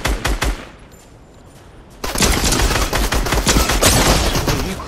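Rapid bursts of gunfire in a Fortnite Zone Wars match, a few sharp shots at first, then after a quieter stretch a dense, loud continuous volley that carries on to the end, with no talking over it.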